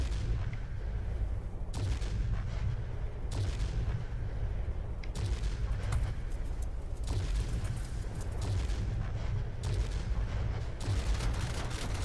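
Aircraft cannons firing in the World of Warplanes game, from a Tier VIII Russian Ilyushin IL-20 attack aircraft, heard as steady, dense rumbling bursts with booming low end that run continuously over engine drone and storm noise.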